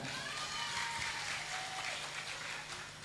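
Audience clapping at an Islamic school graduation event in Pesisir Besuki, a faint, continuous patter of hands with a low hum beneath and a brief voice fragment sliding over it.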